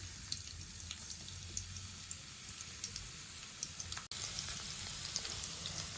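Chopped garlic frying in hot oil gives a steady, soft crackling sizzle with scattered small pops, close and quiet, briefly interrupted by a short gap before continuing.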